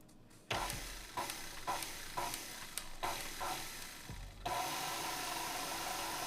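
Powdered sugar being mixed into cream cheese frosting in batches for a mini banana pudding bundt cake, with repeated loud bursts of mixer whirring and scraping, separated by brief pauses, then a steady run to the end.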